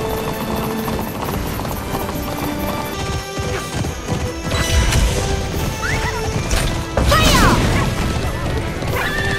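Horses gallop in the Alicia Online racing video game, with rapid clip-clop hoofbeats layered over busy game music and crashing effects, growing louder and denser toward the end.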